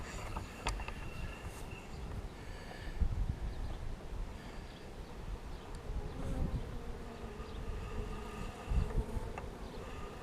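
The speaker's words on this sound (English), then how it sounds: "You can see the different bees are going around." Honey bees in an open spring hive give a steady, close insect buzz that stays level throughout, with individual bees swelling louder as they pass near.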